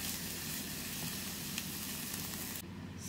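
Curry ingredients with coconut fry and get stirred in a pan for a Malwani chicken sagoti, giving a steady, close sizzle with soft stirring scrapes throughout, ending abruptly.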